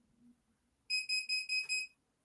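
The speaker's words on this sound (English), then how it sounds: "I have no idea what that beeping noise is." An electronic device near a desk emits five quick, evenly spaced high-pitched beeps in a row, loud and clear against a quiet room with faint background murmur beforehand.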